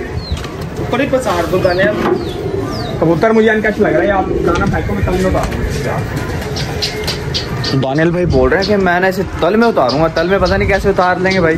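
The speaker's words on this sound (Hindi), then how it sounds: "बहुत ही प्यारा कबूतर है" A pigeon coos repeatedly nearby while someone talks over it, with occasional soft fluttering in the background.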